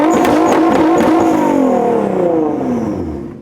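A car engine revving hard, loud and close, with a rising and falling throaty roar that climbs in pitch and then slowly fades as the revs drop away.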